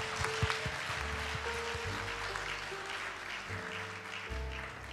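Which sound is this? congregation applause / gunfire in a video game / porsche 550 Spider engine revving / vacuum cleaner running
congregation applause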